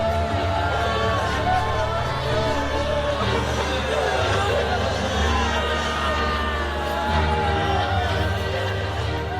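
A large Roman crowd stirs at Caesar's funeral pyre, a dense, steady roar of many voices with scattered shouts and whoops rising from the mass for the whole stretch.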